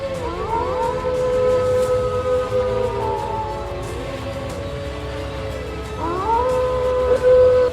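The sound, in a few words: wolves howling in Roblox game Yellowstone Unleashed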